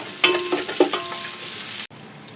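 Sliced onion and curry leaves hit hot oil in a pan, bursting into loud sizzling with a few sharp crackles and stirring scrapes before a sudden cut.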